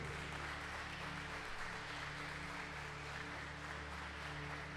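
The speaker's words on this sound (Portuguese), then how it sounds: "Quem entendeu essa palavra, dá palmas para Jesus" A church congregation claps for Jesus during a sermon, a faint, even, continuous patter of many hands with a steady low hum underneath.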